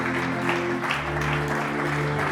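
A church congregation applauding the word of God, a steady, dense wash of clapping that holds throughout, with a voice faintly underneath.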